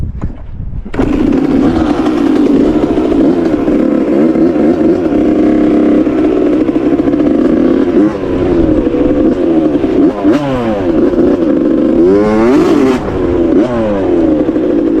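A 2001 Suzuki RM 80 two-stroke dirt bike, fitted with an RM 85 cylinder, starts without choke and revs loudly and steadily up close, its buzzing engine rising and falling through repeated throttle blips for the whole stretch.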